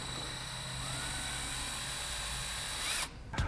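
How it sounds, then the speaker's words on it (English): An electric drill with a mixing paddle stirs epoxy resin in a steady, high-pitched whir for about three seconds, then stops abruptly with a brief clatter, close and loud with no talk. "If I'm using a drill, I'll just come up slowly, hitting the edges just like that."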